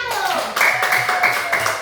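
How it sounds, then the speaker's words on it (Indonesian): A classroom group bursts into quick, scattered hand clapping while children's voices carry on over it. "beri tepuk tangan untuk kelompok 1"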